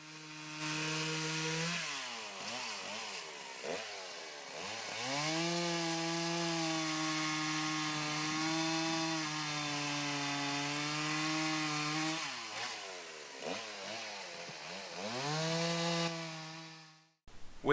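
A chainsaw cuts through firewood while fitted with a measuring-rule accessory, its engine droning steadily between brief throttle dips, loud and close throughout with no talk.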